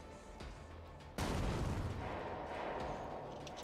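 A frag grenade goes off in the game Warhammer 40K Rogue Trader, a sudden loud blast that cuts in after a quieter stretch and holds as a dense, rumbling roar for the rest of the moment.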